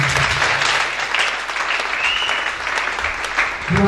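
A church congregation at a French-language worship service bursts into loud, sustained clapping that fills the room, with brief voices at the start and end.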